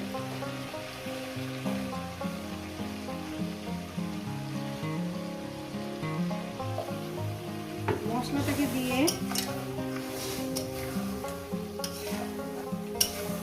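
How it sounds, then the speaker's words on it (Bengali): Chicken and potatoes fry with spice paste in a pan for a meat curry, giving a soft continuous sizzle under repeated stirring and scraping of the pan, fairly close, with no voices. "এর সঙ্গে দিয়ে দেবো আমি আলুগুলো একসঙ্গে কষিয়ে নেবো"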